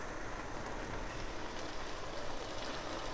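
Water pours steadily into a pot of potato rice being cooked, a continuous soft rushing splash with no breaks, fairly quiet and without any talking.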